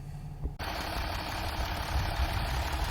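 A 2012 Range Rover L320 V6 turbo diesel idles steadily and close by after a brief quiet start. Its rumble is even and continuous, and a faint high whine sits above it.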